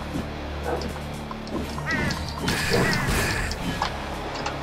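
Squawking bird cries in the dark fantasy game Slain, several harsh quacking calls over a continuous background score with clanking game effects, with a spoken voice briefly heard.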